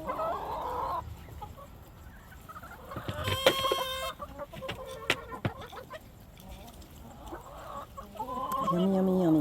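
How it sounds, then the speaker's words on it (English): Chickens cluck and squawk nearby while being fed scratch, a young flock of 32 spring-raised chicks in a pasture setting; busy overlapping clucks with a burst of sharp calls mid-way and a rising crow-like cry at the end. "These are the new chicks that we raised this spring."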